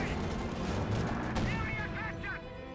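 Gunfire and artillery in the Company of Heroes 2 strategy game, a dense continuous din of shots and rumbling explosions under someone talking.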